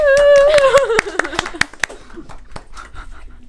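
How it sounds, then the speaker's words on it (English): A small group clapping during a podcast episode, several distinct sharp claps following a loud whooping cheer, with scattered softer claps and voices trailing off afterward. "Come on, guys, clap."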